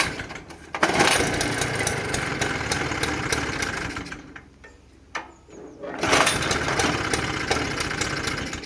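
A Gutbrod engine fitted with a Bing carburetor and a new intake runs on a test, a loud buzzing drone that dips and nearly dies midway before picking back up.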